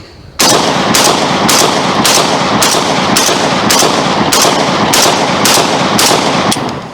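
A 12 gauge shotgun fed from a 20-round drum fires a rapid, loud, evenly spaced string of about a dozen blasts, each sharp report running into the next with no pauses.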